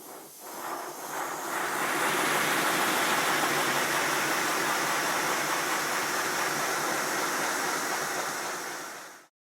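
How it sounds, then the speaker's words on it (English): A steady, loud mechanical rush and hiss of a small Simplex model steam locomotive engine running fast, a continuous broadband roar that holds level before cutting off abruptly. "now the lubricator is working I can run the engine much faster"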